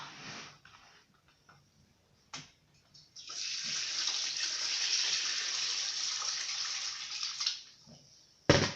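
Water gushes steadily from a kitchen tap for several seconds, filling a pot for chicken broth, bracketed by a few knocks and clunks before and after the flow.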